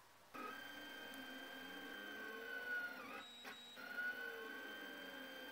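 An Anycubic Kossel delta 3D printer lays down a single-layer 140 mm test pattern, its stepper motors whining steadily with shifting tonal pitches and brief changes in pitch, fairly quiet and without talk.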